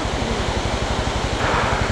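A big white waterfall on a mountain road between Dikchu and Mangan in Sikkim roars as a steady, broadband rush of falling water that stays loud and close for the whole moment, with wind buffeting the microphone.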